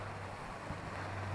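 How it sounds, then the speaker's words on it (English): Rushing water from a waterfall on a moorland stream on Dartmoor near Postbridge, a steady broadband roar close by, mixed with some wind buffeting on the microphone and no voices. "and here's the waterfall."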